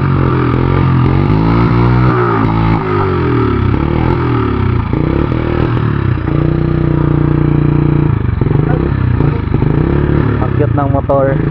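Motorcycle engine running steadily while riding uphill on Samal Island in the Philippines, a continuous mid-pitched drone with slight revving shifts, close and loud throughout, with people talking over it.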